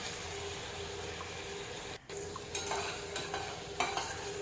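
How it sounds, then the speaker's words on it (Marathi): A paste of roasted onion and coconut fries in oil in a pan, giving a steady close sizzle broken by a short pause and then several scraping stir strokes, with no talking. "त्याचं वाटण करून घेतलेलं ती मी याच्यामध्ये ॲड करते हे पण आपल्याला छान परतून घ्यायचे"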